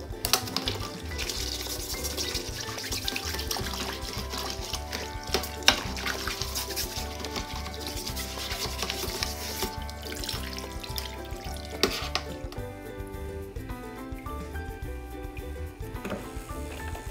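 Tap water runs steadily into a kitchen sink while a greasy, dirty rangehood filter is rinsed under it, a continuous splashing wash with clattering bumps of the metal mesh throughout.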